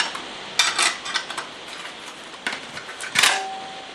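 Metal pans and lids of a Trangia alcohol-stove cooking set clatter and clink together close by, with several bright knocks and a brief ringing tone near the end.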